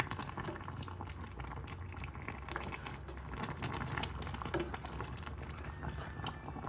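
Catfish tomato pepper soup bubbling in a pot, a dense, steady patter of popping bubbles and simmering liquid, close and fairly quiet, with no voices.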